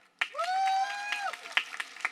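Graduation audience clapping for students at a ceremony, a scatter of hand claps with a drawn-out whooping cheer rising over them.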